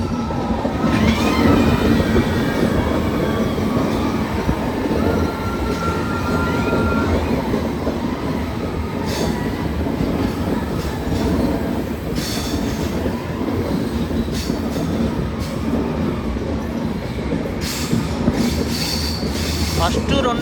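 Onboard a Kirandul passenger train passing through a hill-railway tunnel, a continuous loud rumble of wheels on track carries intermittent clickety-clack beats and drawn-out wheel squeals across twenty seconds.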